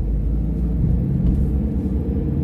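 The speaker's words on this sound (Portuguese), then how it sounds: "Caminhão pesado na frente aí, menino, vem carregado." A heavy, loaded truck drives ahead on a city street, heard from a following vehicle as a steady, loud low engine rumble with no voices.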